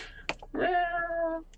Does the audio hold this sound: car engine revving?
no